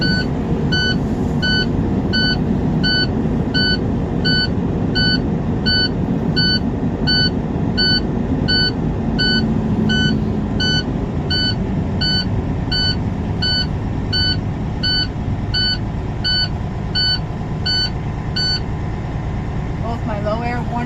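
A truck's low air pressure warning buzzer beeps rapidly and steadily over an idling diesel engine while air builds toward 60 psi, then cuts off shortly before the end.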